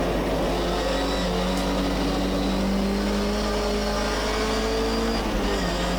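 MGB historic race car lapping Donington Park National Circuit, engine droning loud and steady from on board, pitch holding high with slight shifts and a brief change near the end.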